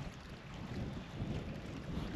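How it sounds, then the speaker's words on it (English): Wind gusting at a wild camp on an island on a wet winter day, a low, steady buffeting rumble against the microphone with no talking. "it's a little bit windy"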